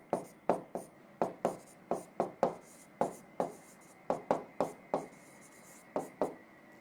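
Pen strokes scratch across paper while chemistry notes are written out by hand, coming as a steady run of short, close, distinct scrapes at an even rhythm with no talk.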